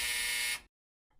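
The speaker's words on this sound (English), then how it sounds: "When the buzzer sounds, the first half is finished." A Bible quiz buzzer sounds the end of the first half: one loud, harsh electronic tone that holds for about half a second and then cuts off into silence.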